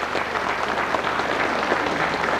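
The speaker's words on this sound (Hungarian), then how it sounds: "legyenek szívesek tapsal fogadni ezeket az eredményeket" An audience applauds at a ceremony announcing placings for majorette dance competitions, a dense, steady burst of clapping from many hands sustained throughout.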